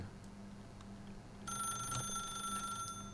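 A phone in the video game The Stanley Parable rings alone, a steady electronic trilling tone that starts partway through and persists at moderate loudness over a faint low hum.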